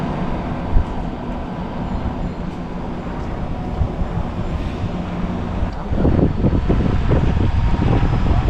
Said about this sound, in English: They do this train for the kids.